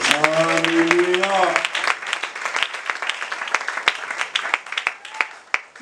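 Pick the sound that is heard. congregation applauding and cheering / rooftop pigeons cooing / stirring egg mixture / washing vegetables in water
congregation applauding and cheering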